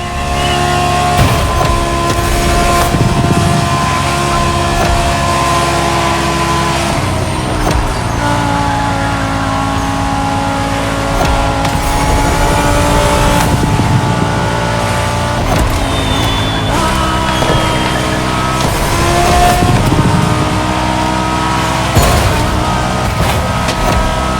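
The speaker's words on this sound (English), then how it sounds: "Gonna push that car to its max speed or what?" Engine roar from a car pushed to top speed in the racing game The Crew Motorfest, a sustained loud drone with shifting pitch and gear changes under game music, nearly constant throughout.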